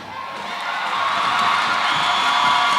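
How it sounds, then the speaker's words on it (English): A crowd of schoolgirls at a marching championship cheers and applauds, a bright sustained roar that swells over the first second and then holds loud and steady. "You definitely can hear the applause from the girls from the St. Joseph's Convent St. George's."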